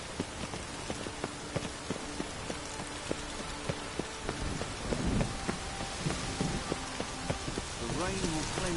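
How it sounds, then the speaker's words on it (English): Steady rainfall in the video game The Witcher 3 patters across surfaces with a regular ticking of drops, while faint muffled voices and a brief whooshing sweep surface in the background. "The rain will cleanse the city streets of filth."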